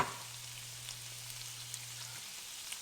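Pork belly and onions frying in hot avocado oil, a steady soft sizzle with faint crackles and pops throughout, quiet and without talk.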